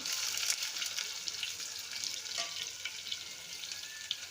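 Cumin seeds and mustard seeds frying in oil in a pan give a steady, close sizzle with small crackles throughout. No one speaks.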